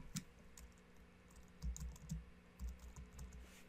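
A few scattered keystrokes on a computer keyboard as XAMPP is typed into a search box, soft and close with small clusters of taps and pauses over faint room hum.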